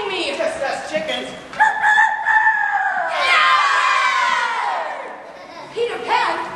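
Actors on stage in a children's theatre production of Peter and Wendy imitate chickens, with several voices clucking and crowing in overlapping bursts amid a lively crowd.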